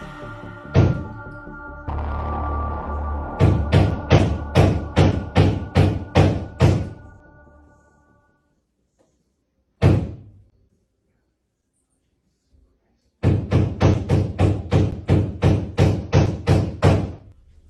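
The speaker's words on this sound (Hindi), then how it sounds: "घर के तहखाने से खटखटाने की आवाजें मुसलसल गूंज रही हैं" Repeated loud knocks echo from a house basement, arriving in rapid runs of sharp thuds with pauses of near silence between bursts, a single isolated knock standing alone midway.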